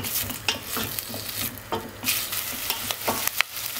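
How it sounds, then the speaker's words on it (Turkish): Chopped onions frying in a pan, a steady sizzle broken by repeated scrapes and stirring knocks of a utensil, close and alone with no voices. "İlk önce soğanları biraz kavurayım."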